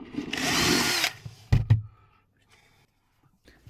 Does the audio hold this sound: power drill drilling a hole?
yes